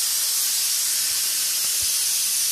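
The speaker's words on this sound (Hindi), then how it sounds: "और कुकर में सीटी लग रही है।" A kitchen pressure cooker whistle releases a loud, continuous hiss of steam while potatoes and cauliflower boil inside, holding steady throughout.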